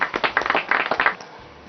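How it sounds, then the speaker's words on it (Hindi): Two studio guests on a TV chat show clap their hands for themselves in a short, uneven burst of close claps lasting about a second before it stops. "तालियां बजाएं अपने लिए दोनों"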